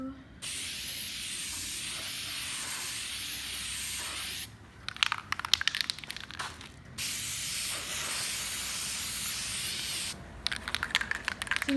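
A spray paint can coating a mirror frame in a gilt finish, long close hissing bursts separated by short pauses filled with rattling and clicking of the can.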